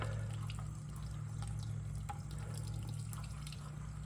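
Water is poured into a bucket of soil holding chestnuts, a steady faint trickle with small drips over a low constant hum.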